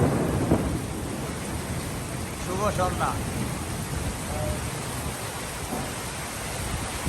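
Steady rain with thunder on an April evening, a dense unbroken wash of downpour with low rumbles rolling underneath, while a voice briefly speaks over it.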